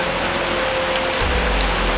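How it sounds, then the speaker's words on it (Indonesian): Steady rain falls at night outside a house in Indonesia, a dense, even hiss of drops on surfaces running throughout, with a low rumble rising in the second half and no voices. "ini karena lagi hujan juga gitu"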